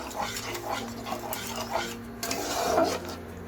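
Pomfret mustard curry being stirred in a pot after water is poured in, a spoon scraping and clinking against the metal with a low simmering rumble underneath, no talking.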